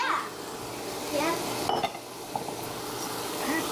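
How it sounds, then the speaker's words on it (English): Softening vegetables for shepherd's pie sizzle in a pan over low to medium heat, a steady faint crackle broken by stirring scrapes and a few light clinks of a utensil. "So that's got a nice sizzle to it."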